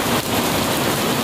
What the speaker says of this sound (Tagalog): Ingat kayo sa ulan, baka mabasa kayo.